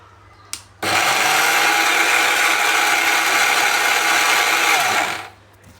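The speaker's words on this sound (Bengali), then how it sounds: "এই যে ব্লেন্ডার করে নিতেছি আমি" An electric blender grinds rice at home, a loud steady whirring roar starting abruptly after a small click, running about four and a half seconds, then winding down to quiet.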